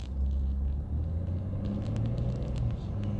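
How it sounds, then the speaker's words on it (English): A 2018 Ford F-150 with the 2.7-liter twin-turbo EcoBoost pulls away from a stop under normal driving, its steady low engine rumble rising from inside the cab, with no talking over it. "I'm going to just take off normal driving and I'll show you what the gears do."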